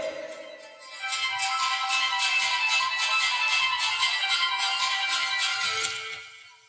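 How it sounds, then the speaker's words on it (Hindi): A mobile phone ringtone rings out for several seconds during a religious lecture in a hall, a steady melodic tone heard clearly and fairly close before stopping. "अरे भाई मोबाइल बंद कर दो,"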